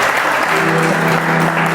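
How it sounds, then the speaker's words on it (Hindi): Audience applause at a bhajan sandhya in a yoga sadhna hall in Gurgaon, a full, steady roar of many hands clapping close by with no break. "मैं चाहूँगा इनके इस जज्बे के लिए एक ज़ोरदार ताली बजनी चाहिए।"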